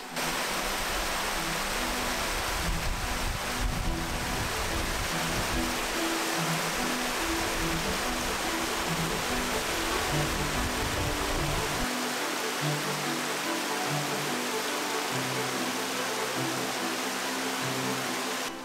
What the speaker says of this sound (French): nous arrivons à la cascade de Clairefontaine